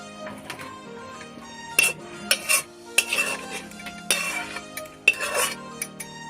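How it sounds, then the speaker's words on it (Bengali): Metal spoon scrapes and clinks against a pot while curry with ash gourd, coconut and prawns is stirred and served onto a plate. Several sharp knocks and scrapes come at irregular intervals over a soft background hiss, close by, and nobody speaks. "এরপর আমি গ্যাসটাকে অফ করে দিচ্ছি এবং একটু হালকা করে নেড়ে নিয়ে একটি থালার মধ্যে তরকারিটাকে নামিয়ে নিচ্ছি।"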